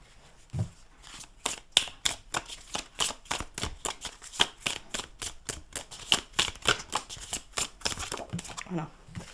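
A deck of cards is handled and riffled for a card reading, producing a quick run of crisp snapping flicks close by, with a voice speaking softly underneath.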